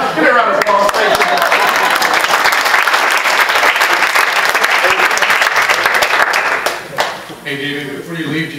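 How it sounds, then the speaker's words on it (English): Loud, dense audience applause filling most of the stretch, then tapering off as a voice begins speaking near the end. "Give me a round of applause."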